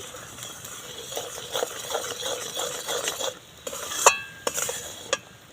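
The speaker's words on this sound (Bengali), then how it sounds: "গুড়টা খুব ভালো করে দেখুন ফুটে গেছে" Repeated scraping strokes of a spoon stirring thick, bubbling melted jaggery syrup over low heat, with a few sharper clinks near the end.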